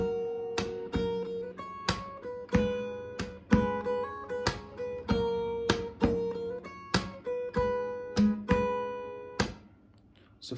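An acoustic guitar plays a fingerstyle section of a Hindi song, with rhythmic percussive slaps between plucked bass and treble notes, close and distinct with no voice.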